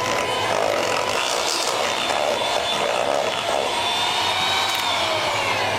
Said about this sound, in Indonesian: Kita mixer lagi sampai tercampur dan merata.